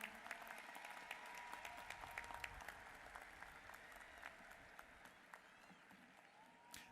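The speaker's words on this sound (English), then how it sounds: "Please give them a round of applause." Sustained applause fills a university commencement hall for the College of Business, dense clapping from a large seated crowd with scattered cheers, heard at a moderate distance and fading slightly toward the end.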